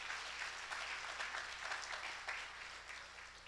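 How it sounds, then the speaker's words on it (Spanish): A church congregation applauds together in a steady, continuous wash of clapping that holds at a fairly even level throughout, heard at a moderate distance with no talking over it. "Démosle un aplauso al Señor."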